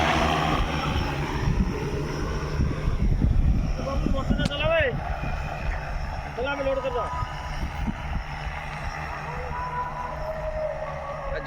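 An agricultural drone spraying pesticide over a farm field, its propellers droning steadily, loudest early and then easing, while voices talk over it.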